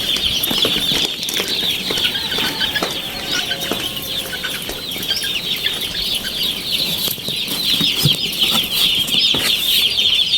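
Young chicks peep continuously and busily while being moved into their cage on a small farm, with occasional wing flaps and shuffling, close and fairly loud throughout with no talking.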